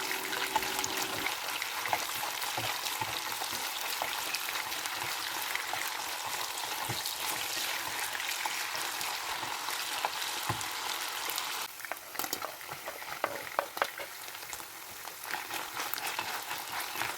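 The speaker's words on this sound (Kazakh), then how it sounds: "етімізді салып, етімізді қызарып қуырып, оның үстінен пиязымызды, сәбіз, картоп және болгарский салсаңыздар болады" Meat frying in a hot pan with onion, carrot, potato and bell pepper for a meat-stuffed pumpkin dish, giving a steady dense sizzle throughout with faint stirring scrapes near the end.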